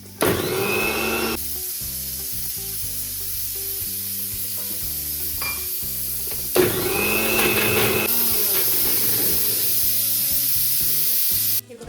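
A mixer grinder whirs loudly as it grinds chutney for pav bhaji, a steady motor roar that shifts pitch and surges again midway before stopping abruptly.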